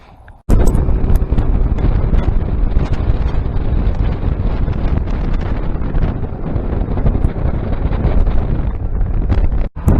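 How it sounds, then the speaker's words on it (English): Strong wind on a lake buffets the microphone in a constant heavy roar for nearly the whole stretch, rumbling and gusting, with no voices. "today I got some extremely windy conditions out here"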